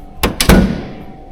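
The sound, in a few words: doors of a historical car closing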